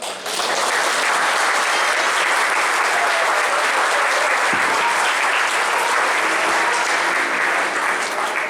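Sustained, dense applause from a church congregation at an Assembleia de Deus service in Sorocaba, loud and continuous from start to finish with little variation.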